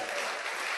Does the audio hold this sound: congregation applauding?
yes